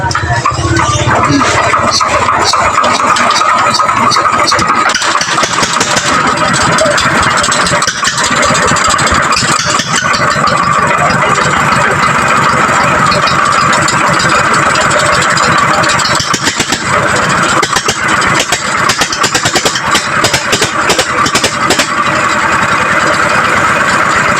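A weak-running small engine with a smoke problem runs steadily and loudly throughout, a continuous buzzing mechanical drone with a rattling texture and no pauses.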